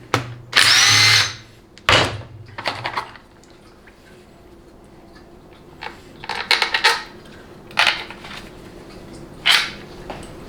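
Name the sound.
power tool removing Torx 30 filter bolts on Dodge 48RE transmission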